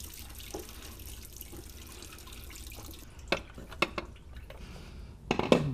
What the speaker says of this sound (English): a whole bunch of water is probably going to come out, so have your bucket ready